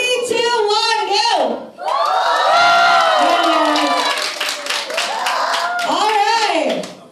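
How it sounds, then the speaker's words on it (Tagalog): Wedding reception guests cheering, shouting and whooping loudly together, with some clapping mixed in, a dense continuous crowd roar with high excited voices rising and falling throughout. "So guys, yung may kasamang hiyawan at sigawan."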